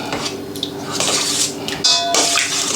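Char siu sauce with fermented red bean curd being stirred in a bowl, with a spoon clinking and scraping against the dish in close, busy bursts.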